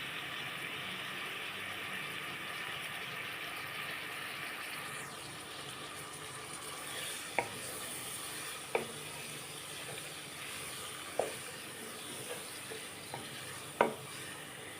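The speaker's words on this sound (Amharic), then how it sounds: "እዚህ ጋር ትንሽዬ ነጭ ሽንኩርትና ዝንጅብል አብሬ ጠብሰዋለሁ።" Garlic and ginger fry in a pan as a faint, steady sizzle runs throughout, broken by a few sharp clinks of a utensil stirring against the pan, with no voices.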